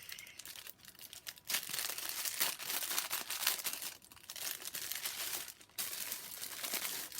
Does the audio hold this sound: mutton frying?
no